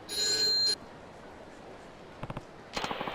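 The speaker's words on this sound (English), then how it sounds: "The payphone's ringing" A payphone ringing in the video game Yakuza 3, heard as short bursts of a bright electronic ring between quieter stretches of soft background noise.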